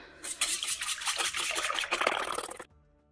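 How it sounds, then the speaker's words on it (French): Eggs, four of them whole, are beaten by hand in a bowl for flan pâtissier, giving a fast, steady liquid slapping and clicking that runs for about two and a half seconds, then stops. "Je viens battre mes œufs."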